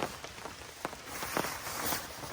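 Rain patters steadily on a camping awning stretched from a pickup truck, a soft continuous hiss with a few sharper drop taps, close and fairly quiet.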